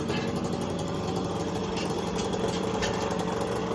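A vintage motorcycle engine, a 1983 Yamaha 125 YZ or a Montesa Cappra, idles steadily up close, a loud, even mechanical chugging with faint vibration that stays constant throughout and has no talking over it.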